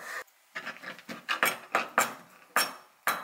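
A knife slices radish on a cutting board, giving about eight crisp, separate chopping thuds in an uneven rhythm, close and clear with no voices.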